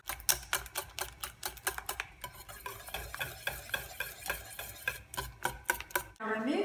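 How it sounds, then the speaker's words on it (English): Hand whisk clatters rapidly against a bowl of eggs and sugar set over heat, a brisk run of sharp rhythmic ticks with a brief pause, close and alone. "All you want to do over the heat is just stir and lightly whisk"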